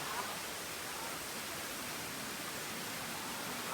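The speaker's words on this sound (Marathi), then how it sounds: "सकाळपासून जोर घेतले पावसाने इकडे बघा" Heavy rain pours steadily with a dense, even hiss that holds at one level throughout, with no other clear sounds above it and a brief bump at the very end.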